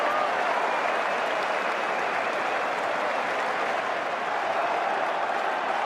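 A cricket stadium crowd at the England versus Australia NatWest Series final at London cheers and applauds a boundary, a dense, loud, steady roar of clapping that holds without a break.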